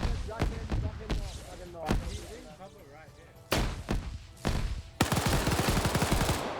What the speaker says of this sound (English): There's the machine gunner starting up